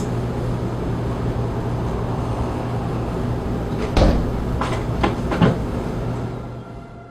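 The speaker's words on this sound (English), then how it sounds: "right at the end you'll hear the attic door bang" An attic door bangs in a house, giving a couple of dull knocks near the end over a steady hum of background noise, with a fainter thump or two after.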